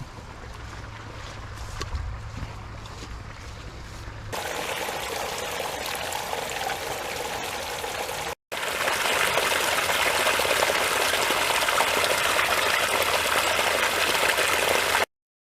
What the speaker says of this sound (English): So we got a torrent of water coming out down here.